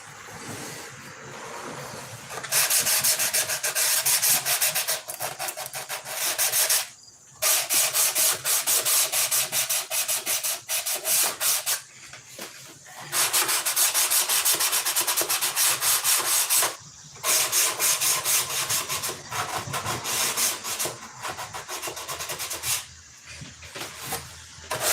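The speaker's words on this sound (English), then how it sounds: "The ruffles of sandpaper" Sandpaper rubbing back and forth on wood in long, loud, steady strokes, broken by brief pauses every few seconds, with no talking.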